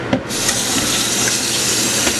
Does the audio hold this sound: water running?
yes